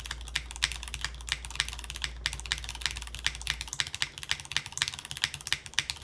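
Rapid clacky typing on mechanical keyboard switches in a keyboard with an artisan resin bottom, thinner in sound, close up and continuous, with a low hum fading out partway through.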